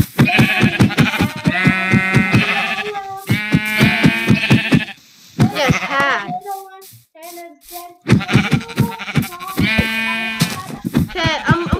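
Sheep bleating in the Minecraft video game: several loud, close, wavering bleats in quick succession, with a short pause and then more bleats, while a player speaks briefly in between.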